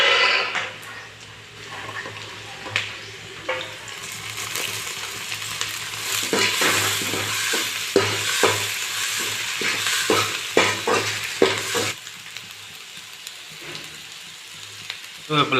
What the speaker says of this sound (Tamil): இப்போ வந்து நம்ம இஞ்சி பூண்டை வந்து நம்ம சேர்த்துக்கலாம்